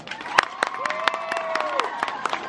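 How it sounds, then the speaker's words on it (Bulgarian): Sparse audience clapping at an outdoor evening town concert in Nikopol, a few sharp claps over a steady crowd murmur, with a sustained melodic tone running underneath. "Моля за вашите аплодисменти за Ивелина!"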